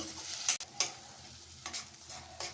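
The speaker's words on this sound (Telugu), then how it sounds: "ఉల్లిపాయలు ఎర్రగా వేగాయండి" Onions and onion paste browning in a pan for a bottle gourd curry, a faint low sizzle under several distinct spoon scrapes and clinks spaced irregularly, with no speech.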